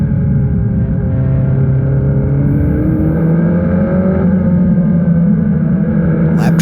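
A Formula Regional Americas race car driven hard around the NOLA circuit, its engine a loud, steady high-pitched drone that shifts pitch as it accelerates, with commentary voices running faintly underneath.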